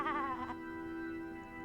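A sheep bleats in the video game Discworld II: one wavering, quivering bleat lasting about half a second, clear and close, followed by a sustained tonal drone.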